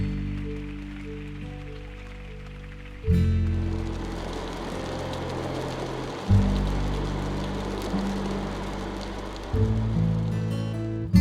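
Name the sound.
rain falling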